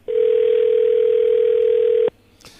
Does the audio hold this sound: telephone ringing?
yes